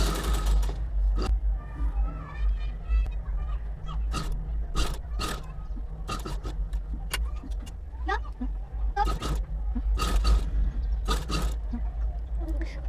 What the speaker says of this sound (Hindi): उसके बाद किनारे में आराम से सिलाई लगा लेंगे।